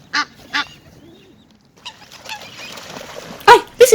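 Geese honk at close range in several short, loud bursts, with a pause between the calls and fainter rustling and squeaks under them.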